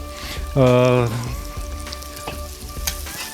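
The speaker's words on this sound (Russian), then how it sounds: "Можно жарить вот при такой температуре." Steady sizzling of carrots frying in hot oil in a cauldron for plov, with a short tonal whine rising briefly above the crackle early on.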